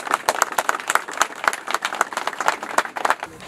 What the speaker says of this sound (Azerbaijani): Alqışlar, bayrağımızı alqışlayırıq.